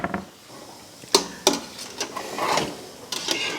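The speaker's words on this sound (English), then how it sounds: "I'm going to just stir this in." Beef stew being stirred in a pot gives scattered close scraping and clinking of a utensil against the pot, several sharp knocks in a quiet setting.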